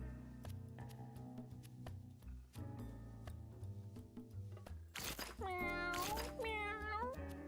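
A cat meows in the video game Ravenfall, a few bright rising and falling mewing calls near the end over layered game music with ticking effects.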